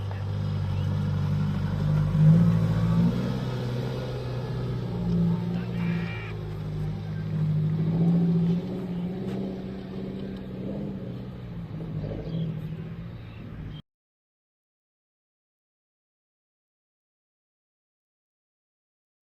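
A Tata SUV's Varicor 400 diesel engine idles close by with a steady low rumble that swells slightly now and then, then cuts off abruptly into silence.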